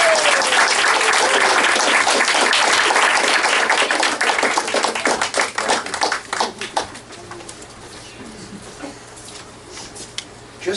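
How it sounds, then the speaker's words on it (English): Audience applause at a gathering, loud and dense at first, then thinning into scattered claps over the last few seconds, with pigeons cooing faintly in the background. "So let's give them a round of applause."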